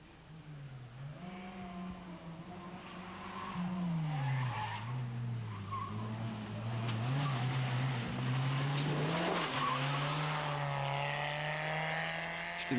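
Rally cars on the Cirkovce speed stage of the 1992 Velenje rally, engines climbing and falling in pitch as they pass at a distance, with some tire noise and a steady, moderately loud drone throughout.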